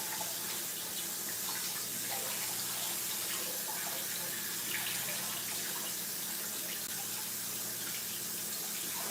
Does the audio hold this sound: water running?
yes